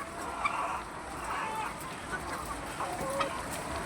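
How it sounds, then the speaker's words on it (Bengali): Laying hens on a village poultry farm cluck in short, scattered bursts as they feed, a busy flock murmuring over steady background noise. "দেখুন, এগুলো হচ্ছে ডিমের মুরগি। এরা এখন খাচ্ছে।"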